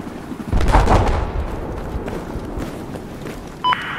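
Hostile machine gun fire in a Battlefield 4 battle, a loud rolling burst of shots that tails off into distant rumble and scattered reports, ending with a short electronic beep.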